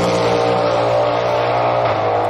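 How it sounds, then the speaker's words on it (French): Cadillac V-Series R hypercar engine in a loud, steady, close drone with a strong low hum and layered harmonics, holding constant throughout with no break. "vous allez entendre la Cadillac V-Series R"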